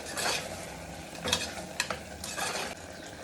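Stirring chicken in an unlocked pressure cooker for biryani, scraping with a soft sizzle beneath, a few sharp utensil knocks standing out; close and moderately quiet, no talking.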